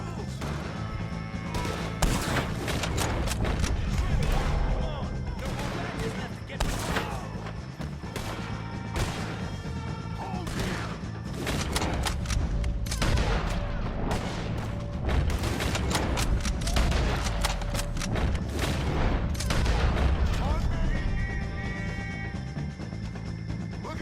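Gunfire from Red Dead Redemption 2 fighting the O'Driscolls, with repeated sharp shots and booms scattered irregularly over a steady rumble, some close and loud, some farther off, continuing throughout.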